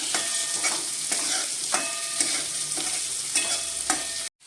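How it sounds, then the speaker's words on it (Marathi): Finely chopped onion fries in a pan for Maharashtrian vangyache bharit, a continuous hiss punctuated by regular sharp scrapes of stirring, ending abruptly in near silence. "आपण आता त्याच्यामध्ये बारीक कापलेला कांदा टाकूया हा चांगला भाजून घेऊया"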